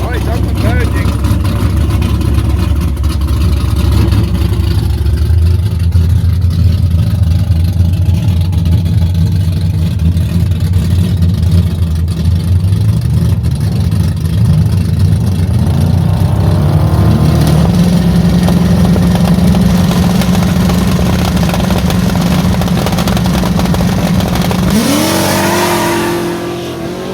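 A no-prep drag race car at a racing event in Queensland rumbles loudly and nearly at idle, then its engine swells in pitch as it revs up, steady and close, with voices talking over it.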